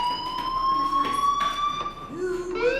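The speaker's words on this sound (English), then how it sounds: "Hey, do you hear that fire alarm?" A fire alarm rings steadily throughout in the game Life Is Strange, a continuous electronic tone with a brief voice-like sound near the end.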